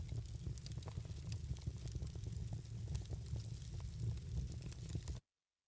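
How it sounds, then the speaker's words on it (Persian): Crackling fire sound effect playing in an Unreal Engine 5 blueprint, a steady roaring rumble with scattered pops and snaps that cuts off abruptly near the end. "اگر برگردم به بلوپرینتم میبینم که صدای آتش هم اضافه شده"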